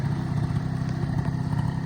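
A Honda Dio AF-35 scooter engine idles steadily nearby with a low, even putter and faint mechanical clatter.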